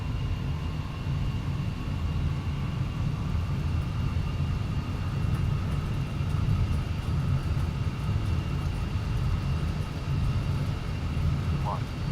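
An Embraer ERJ145 rolls down the runway for takeoff in X-Plane 12, its engines producing a loud, steady roar with a droning hum that persists throughout.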